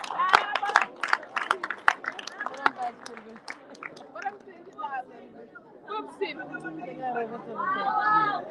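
An audience at a youth summit closing ceremony in the Gambia claps for a speaker, a scattered burst of hand claps over steady crowd chatter, with voices talking throughout.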